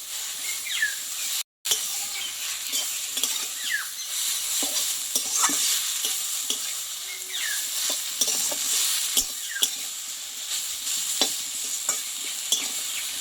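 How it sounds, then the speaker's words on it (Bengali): Pumpkin leaves fried in oil in a pan with salt, sugar and turmeric, stirred and tossed with a steady close sizzle and scattered scraping clicks of the spatula, continuing for over ten seconds with no voices. "শাকটা একটু ভালোভাবে আমি নাড়াচাড়া করে নেবো"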